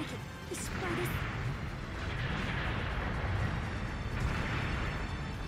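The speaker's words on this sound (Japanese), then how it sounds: "後方部隊からの支援砲撃来ます" Heavy support artillery bombardment in the Gundam Battle Operation 2 mecha game, a continuous thundering rumble of blasts with a few sharper bursts, loud and dense under game voice chatter.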